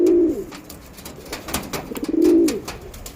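Andhra Lalsira pigeons, a breeding pair, give two loud, close rolling coos at the start and near the end, with soft rustling and wing shuffles between.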